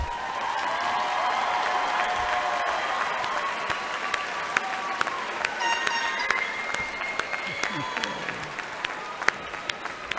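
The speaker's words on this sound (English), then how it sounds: "let's have one round of applause more for our newest engineering graduates" A crowd gives a round of applause for new engineering graduates at a graduation ceremony. The clapping is sustained and fairly loud, with cheers, whistles and scattered voices rising above it throughout.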